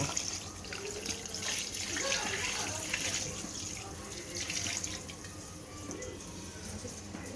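Tap water runs into a vessel for chicken curry, a continuous splashing gush that swells and eases slightly over several seconds, close by and with no talk.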